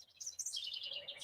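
Several birds chirp and twitter continuously, bright and fairly close, with overlapping calls and no voices.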